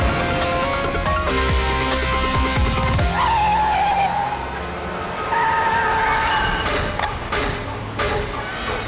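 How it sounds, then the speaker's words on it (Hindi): A car driven recklessly in a tense chase: loud, sustained tire squeals and skidding over a roaring engine, with the screeching rising and falling through the clip and no voices. "ये गाड़ी ऐसे क्यों चला रहा है?"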